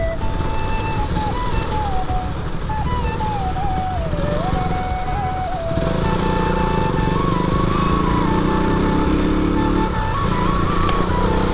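A KTM motorcycle that is struggling and will not pull drones steadily while being ridden into Jorhat, a loud, close engine note with wind rush running throughout.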